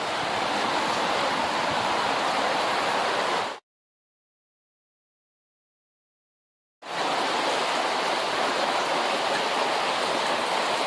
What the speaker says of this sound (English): As soon as you gone, the rain come down and flood.